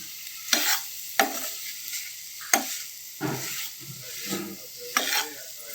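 Bitter gourd fry sizzles softly in a pan while a spoon stirs and scrapes it in about six distinct, evenly spaced strokes, close and clear with no talking.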